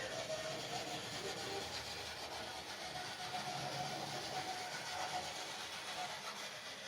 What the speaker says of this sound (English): You can hear it starting up. I mean, certainly there's no mistaking when this locomotive is running.